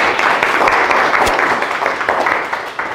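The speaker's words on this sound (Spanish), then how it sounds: "Un aplauso por esta" Audience applause at the close of a discussion session at a physics talk on Regge calculus, steady broadband clapping from a room of people filling the whole stretch without pause.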